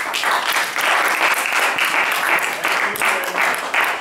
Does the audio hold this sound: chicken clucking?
no